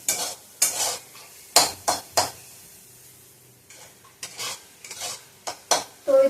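Gram flour being roasted and stirred in a pan for besan laddu, with repeated scraping strokes of a spatula against the metal and faint sizzling between them, close and rhythmic without speech.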